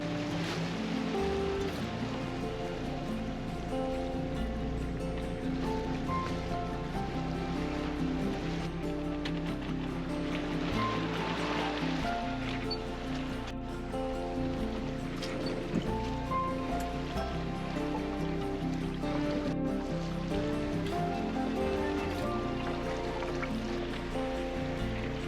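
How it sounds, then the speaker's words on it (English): Ocean waves wash against a sailboat's hull at night on the Gulf Stream, a soft continuous rush and slosh with faint drips and creaks, fairly quiet and steady throughout. "But I think it is the waves."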